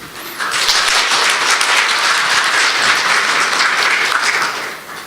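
Enthusiastic applause at a CEO forum, many hands clapping in a dense, steady roar that swells quickly, holds for several seconds, then tapers off.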